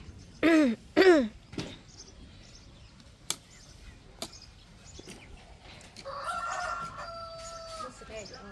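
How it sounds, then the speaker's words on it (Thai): Rooster crowing in a rural backyard vegetable garden in Buriram, Thailand, two short loud calls close together near the start, followed by quiet outdoor ambience with scattered knocks and later a longer burst of other birdsong. "เสียงไก่"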